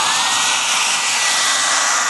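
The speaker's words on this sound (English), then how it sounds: "Alright, here we are with the hair dryer. Salon series." A salon-series hair dryer on its high setting, aimed at iPhone 3G screen glass during a touchscreen repair, blasts a loud, steady close-up roar with a faint whine and no pauses.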